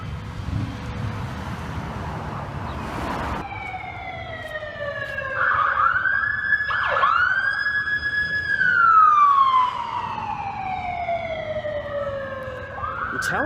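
A police car siren wails at a distance, steady at first and then rising and falling in long sweeps over a low background hum, moderately faint with no voices.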